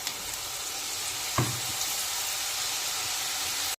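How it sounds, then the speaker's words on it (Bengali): Flour nimki dropped into smoking-hot white oil in a wok sizzle with a steady, dense hiss, a brief splash-like burst as they go in, then continuous frying alone. "তো এখন আমি ছেড়ে দিচ্ছি নিমকিগুলো"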